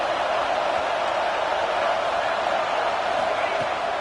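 A roaring football stadium crowd fills the air with a dense, steady wash of noise, loud and continuous throughout.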